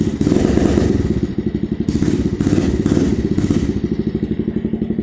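A 2009 Suzuki Quadsport LT-Z90 ATV fitted with a Big Gun Mini full exhaust idles and revs close up, with a loud, rapid, popping exhaust pulse that swells and eases in short blips.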